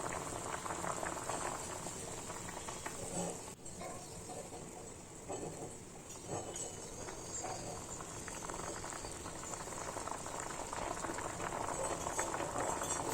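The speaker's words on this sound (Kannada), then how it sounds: "ನುಗ್ಗೆಕಾಯಿ ಚೆನ್ನಾಗಿ ಕುದೀತಾ ಇದೆ" Lentil sambar with drumsticks simmers at a steady rolling boil, a soft continuous bubbling and plopping heard up close and fairly quiet, with a brief knock partway through.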